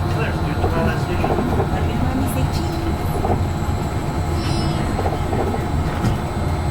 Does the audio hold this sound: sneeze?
no